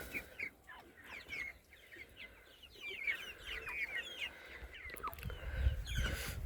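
Tiger-breed chickens on a poultry farm cluck and chirp softly in short, scattered calls, fairly faint against a low rumbling background with a brief thump near the end.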